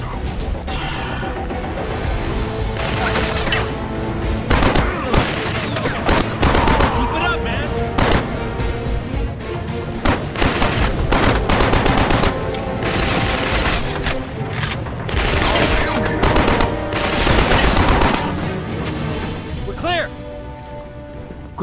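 Dense, sustained automatic gunfire and explosions from the video game Killzone Mercenary, loud continuous bursts with booms, with shouted voices mixed in.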